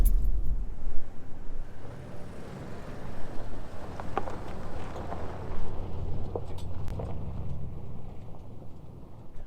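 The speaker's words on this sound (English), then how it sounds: "The fan is probably too loud right now compared to the rest of the vehicle" A Toyota Tundra's cooling fan runs loud, a broad steady rushing whoosh that holds for the whole stretch with slight swells, close and continuous with no talking.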